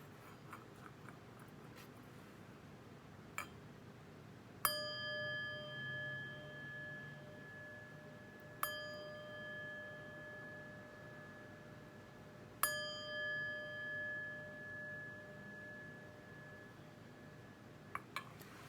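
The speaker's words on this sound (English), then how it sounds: "But first, let's chime." Three bright chime strikes ring out at even intervals, each leaving a long, clear shimmering decay that fades slowly in a quiet room, with a few faint clicks before the first strike.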